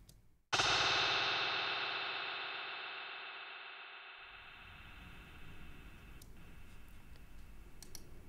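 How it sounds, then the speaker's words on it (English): Echoplex tape delay on a sharp hit, a long ringing echo tail with a fast pitch wobble giving an almost flanger-like swirl, fading gradually, followed by faint ticking clicks; heard alone without talk. "what's giving it that like really modulated sound here is this wobble section, where it's changing the pitch pretty quickly"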